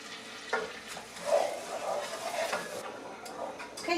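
Sugar, water and vanilla being stirred together for a butter sauce, a soft steady scraping and swishing that stays close and fairly quiet, with no talking.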